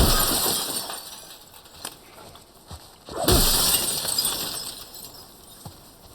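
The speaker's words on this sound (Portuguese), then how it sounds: "Quebra o vidro." Glass shatters in The Last of Us: a sharp crash near the middle with scattered tinkling shards, set against a steady hiss of game ambience, with no talking.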